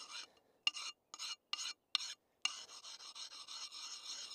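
A hand file sharpening a tool outdoors during excavation prep at a log cabin build, heard as several short separate rasping strokes followed by a longer run of steady rhythmic rasping, close and fairly quiet.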